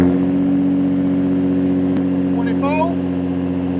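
A 2024 Ford Raptor's 3.5-liter twin-turbo V6 runs at a steady, deep idle after starting up, with exhaust in normal mode, while a person speaks briefly near the end.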